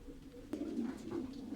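A racing pigeon hen, shown at a pigeon presentation ahead of an auction, coos in low, soft, rolling throaty calls, close and continuous, with a brief knock partway through.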